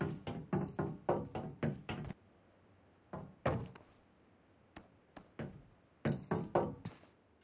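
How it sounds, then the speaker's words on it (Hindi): Footsteps on top of a metal shipping container in PUBG, heard as clusters of hollow metallic thuds in quick runs with short pauses between them, loud and close, with no talking. "हाँ तो दोस्तों यहाँ पे कुछ ऐसी ही आवाज़ आएगी जब बंदा कंटेनर के ऊपर चल रहा होगा"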